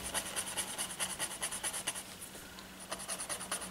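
A tortillion rubs and blends white charcoal into paper in quick, rhythmic back-and-forth scratchy strokes, close and steady with a short pause, no voices.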